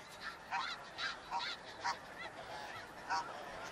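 Snow geese honking in spring in the Canadian wilderness, a series of separate nasal honks repeating every half second or so, moderately distant and fairly faint against quiet outdoor background.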